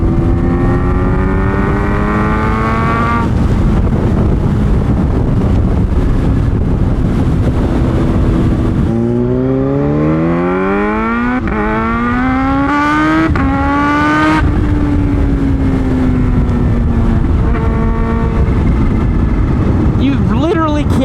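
A high-revving Kawasaki Z H2 sport motorcycle engine screams through rising gear changes under heavy wind noise, with the pitch climbing and dropping as the rider shifts.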